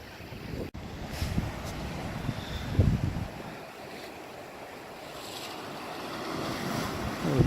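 Ocean waves surge and splash against rocks at Peggy's Cove, with a stronger burst of water partway through, under steady wind rumble on the microphone.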